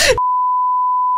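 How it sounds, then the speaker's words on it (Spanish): A steady electronic alarm tone sounds in the bomb-defusal video game Keep Talking and Nobody Explodes, a single loud unbroken beep lasting about a second, with noise just before it and a clipped edge at the end. "Y me da la asquerosa alarma esta, no te creas nada."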